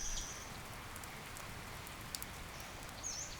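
Steady rain falls on long grass in a city, a dense, even hiss of drops with a few faint bird chirps above it and no voices.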